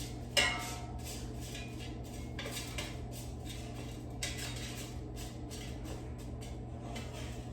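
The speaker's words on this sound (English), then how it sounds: "let's mix it with a spatula so it browns evenly" A spatula scrapes and clinks against a metal air fryer basket as frozen shredded hash browns are mixed, with a sharp knock near the start and intermittent scraping strokes after.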